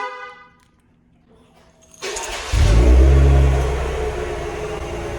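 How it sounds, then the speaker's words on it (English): A 2020 Cadillac CT5-V fires up from a warm start: a near, loud burst of engine and exhaust roar that jumps in, flares, then settles into a deep steady idle, after faint background sounds. "I want to let you hear the exhaust"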